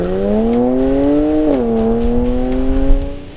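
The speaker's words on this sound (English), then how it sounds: "fitted a free-flowing exhaust system that sounds absolutely gorgeous" A 2011 BMW 335is straight-six with a free-flowing exhaust drones smoothly at a steady pitch, dips briefly, then climbs again, loud and close with a throaty, even tone.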